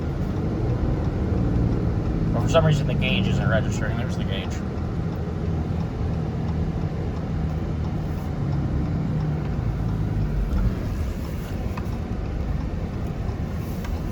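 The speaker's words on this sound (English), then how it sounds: "Here's the exhaust brake for you." 2024 Ram 3500 Cummins diesel truck running its exhaust brake while hauling a tarp-covered load, a steady low droning rumble with wind noise throughout and someone talking over it.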